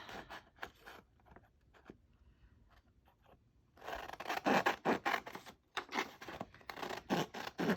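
Scissors cutting paper for a no-sew scrapbooking craft, a few quiet snips at first, then a louder, rapid run of crisp rasping cuts close to the listener.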